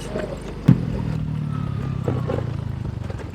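A motorcycle riding along a bumpy village road in Majalengka, its engine droning steadily and close, with one sharp clatter near the start.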